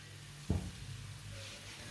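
Carrot and long strips of capsicum stir-frying for noodles over raised heat, with one clattering stir at the start, then a steady close sizzle running underneath and no talking.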